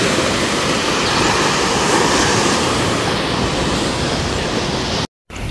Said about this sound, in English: The waves basically just break in at this like point here